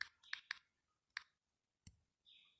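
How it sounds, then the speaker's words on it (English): Someone types on a computer keyboard, producing a few quick close clicks in short bursts separated by near silence, with a soft thump and a brief hiss near the end. "Okay, let me type it like that."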